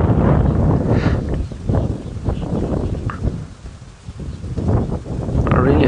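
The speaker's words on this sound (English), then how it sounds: "I really hope this wind dies down a bit." Gusty wind buffets the microphone during an early-morning safari drive in the bush, a steady low roar rising and falling in waves throughout, with faint rustling mixed in.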